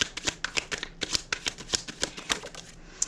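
Tarot cards riffled and shuffled by hand during a chakra reading, a rapid run of crisp papery flicks and slaps close up, steady and busy throughout with no talking.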